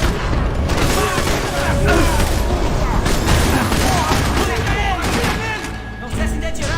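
Rapid, loud bursts of gunfire crackle almost continuously during a Max Payne 3 firefight, with heavy booms and overlapping shots close by and voices shouting in between.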